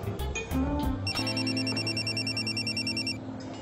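A phone rings indoors at a restaurant table, a short electronic ringtone of repeating bright tones that starts after a few soft clinks and keeps ringing for about two seconds at moderate volume.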